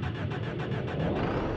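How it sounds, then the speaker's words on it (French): A bus engine starts up in the driving game BeamNG Drive, a loud, steady cranking rumble with rapid pulsing, filling the whole short moment. "Je démarre les machines."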